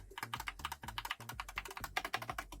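Fast, steady typing on a Skyloong SK61 60% keyboard with Gateron Red optical switches, a dense run of close, crisp key strikes with no pauses.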